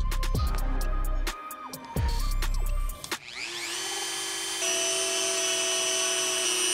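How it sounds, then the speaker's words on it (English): A Dremel rotary tool is taken to the leather of a 1985 Air Jordan 1 sneaker; after a few sharp knocks and clicks it spins up to a steady, high-pitched whine. "take the Dremel to the leather and get it prepped"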